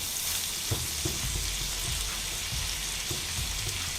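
Taco filling sizzles and fries in a pan, a steady crackling hiss with a few soft clicks, close and even throughout, no voices.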